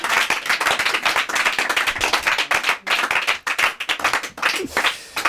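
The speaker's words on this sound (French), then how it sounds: "quand je fais ça, les gens applaudissent" Audience applause at a live mentalist stage show, dense steady clapping from a crowd filling the whole stretch, loud and close, with a brief dip midway before it swells again.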